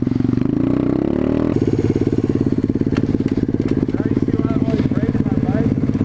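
A pit bike engine with its muffler fallen off revs loud and close, a harsh rapid rattling roar that rises in pitch early on and then holds steady.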